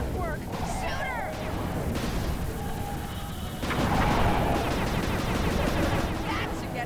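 Game gunfire from the Sly 2 finale battle, a steady rattle of shots under a dense layer of music and effects, with some spoken dialogue mixed in.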